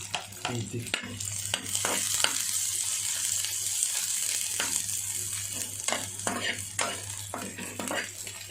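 Onions splutter and sizzle in hot oil for a cucumber and peanut curry, a close, constant frying hiss broken by sharp crackles and scraping stirs.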